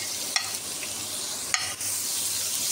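Chopped capsicum and cabbage being stirred together for a chicken vegetable cutlet mix, with two brief scraping clatters over a steady soft hiss, close and fairly quiet.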